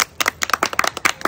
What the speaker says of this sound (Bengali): চলো দিদির জন্য হাততালি